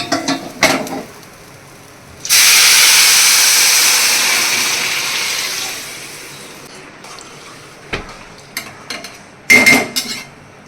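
Fried pulao rice is tipped into hot water in a pot, setting off a loud sustained hiss of steam that slowly fades, framed by clinks and scrapes of a spoon and pot before and after.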